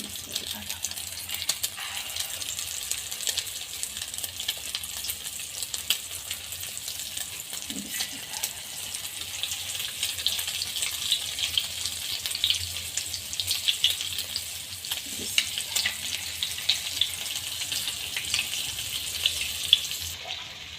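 Chicken shami kebab patties fry in hot oil over medium heat, a soft, continuous sizzle with faint crackles and occasional small clinks, fairly quiet throughout.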